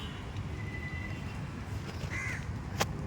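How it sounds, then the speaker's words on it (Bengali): Crows caw outdoors on a morning walk through a green, flowering spot in winter, a few short calls over steady low background rumble, fairly distant and moderate in level. "এখানে আসলে এত পাখির ডাক"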